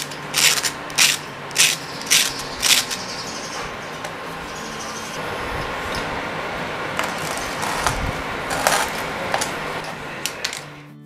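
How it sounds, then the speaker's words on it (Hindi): Crispy chilli cheese toast made without an oven crunches up close. A quick run of sharp, rhythmic crackles comes first, then a few scattered crunches follow over a faint background hiss, with no talking. "आप इसे खुद देख सकते हो और सुन सकते हो कि ये कितना क्रिस्पी बना हुआ है"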